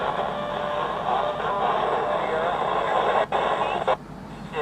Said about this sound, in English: So you can hear a lot of the static.